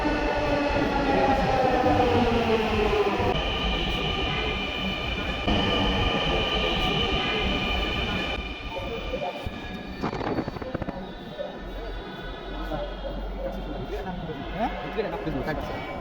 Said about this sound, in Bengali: অবশেষে আমাদের ট্রেনটি চলে আসলো।